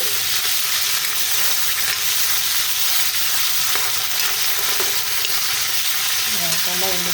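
Paneer cubes frying in oil in a kadai until lightly browned, producing a loud, constant sizzle up close with occasional spatula stirring and scraping.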